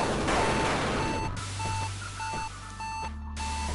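Beeping alarm in the video game Axiom Verge: a loud, evenly spaced series of bright electronic beeps repeating over a low droning hum, close and clear, with no talk.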